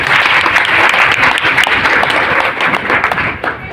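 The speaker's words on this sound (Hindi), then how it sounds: "तालियां बजाइए अपने लिए।" Loud audience applause at an RCM network marketing seminar, a big crowd clapping steadily and close, thinning slightly toward the end, with no speech over it.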